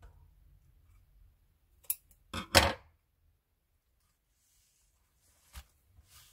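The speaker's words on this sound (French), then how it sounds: "je le coupe" Scissors snipping through material, a few sharp quiet cuts bunched around the middle followed by a single later snip, with near silence between them.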